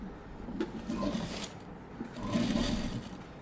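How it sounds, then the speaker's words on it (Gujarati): A sewing machine stitches fabric in two short runs with a pause between them, its motor whirring and clattering at moderate volume, close by and with no voices. "ચાલો હું અંદર હવે સિલાઈ મારી."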